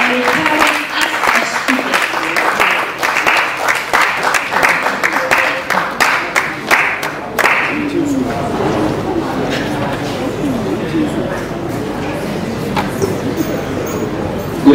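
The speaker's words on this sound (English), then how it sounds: "So we round of applause, let's welcome him" An audience at a student talk on financial independence and retirement claps to welcome a speaker, sharp individual claps dominating the first half before giving way to talk and room noise.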